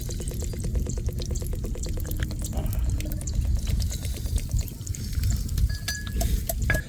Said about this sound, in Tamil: செக்கில் எண்ணெய் நல்லெண்ணெய் ஊற்றிக்கலாம்